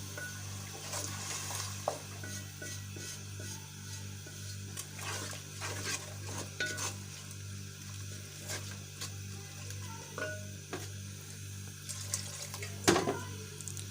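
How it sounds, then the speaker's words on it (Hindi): Water poured and stirred into a pan of frying spices (turmeric, onion, green chilli and green onion masala) for sarson ka saag, a steady running, splashing wash with soft stirring scrapes and a brief louder splash near the end. "थोड़ा सा इसमें पानी ऐड करेंगे मसाले को सॉफ्ट करने के लिए।"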